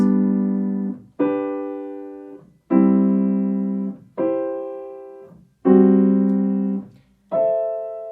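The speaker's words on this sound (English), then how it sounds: "Instead of 3 separate notes, I'm going to play the notes as one block." Six sustained block chords on a piano, each struck together and held about a second before cutting off, with short gaps between them.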